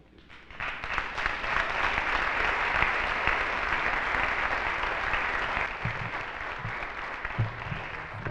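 Sustained audience applause for a speaker at a talk, building quickly and holding steady as a dense, loud wash of clapping, with a few louder individual claps near the end.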